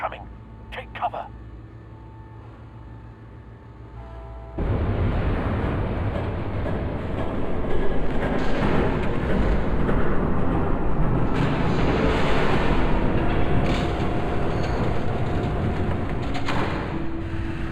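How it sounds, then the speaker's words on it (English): A train in the Batman: The Telltale Series game rushes past after a brief quiet stretch. Its dense, loud roar starts abruptly and rumbles on steadily for over ten seconds, and a faint voice sits underneath. "There's a train coming."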